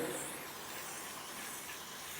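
Spray paint hisses from an aerosol can as a glossy piano black coat goes on over a base coat already saturated with paint, a smooth, steady, close hiss holding throughout.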